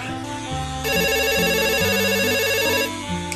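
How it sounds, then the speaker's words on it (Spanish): A telephone rings with a warbling electronic tone, loud and close, repeating in a steady pattern over a faint background melody. "que suena el teléfono"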